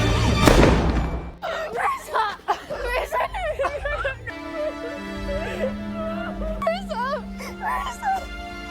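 A single loud gunshot cracks out in an action film and decays over about a second. Afterwards, several people talk over a sustained tonal background.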